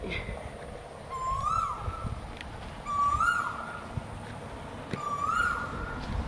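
A bird calls three times at even intervals, each a short rising whistle-like note over steady outdoor ambience.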